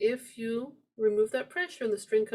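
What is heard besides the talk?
No everyday noise stands out behind the speech.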